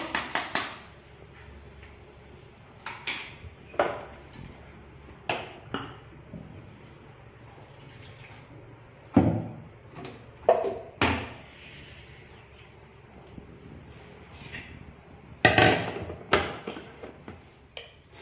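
Ingredients for malai shahi paneer pounded into a paste: a series of irregular, fairly loud thuds and knocks, some in quick pairs and others spaced by pauses, close by over a quiet room with no talking.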